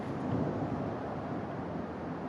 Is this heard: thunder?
yes